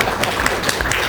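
Audience clapping at a school exam results ceremony, a short burst of many hands applauding with distinct sharp claps scattered through the clatter, moderately loud and close.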